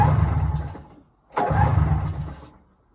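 A 1997 Yamaha Vmax XTC 600 snowmobile cranking and catching, its engine sputtering loudly close by, cutting out for a moment, then firing again before fading out.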